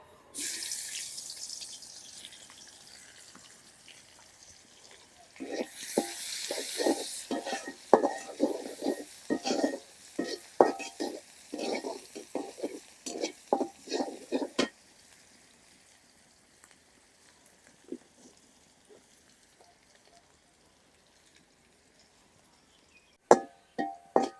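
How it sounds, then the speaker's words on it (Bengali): Chopped onions frying in a pan while a Bengali baim fish curry with cauliflower and tomato is cooked, giving a dense burst of crackling and stirring clatter in the first half before settling into faint scattered sizzles and occasional clinks. "পেঁয়াজটা লাল লাল করে বাজা নিছি"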